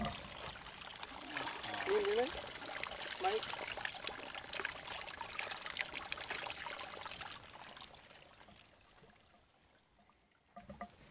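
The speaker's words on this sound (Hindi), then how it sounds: "वहाँ पर ये पीने का पानी है स्रोत, देख रहे होंगे प्राकृतिक स्रोत है।" Drinking water from a natural spring source near the village of Bilkot in Naini Danda trickles and pours steadily, close by, fading toward the end while someone speaks over it.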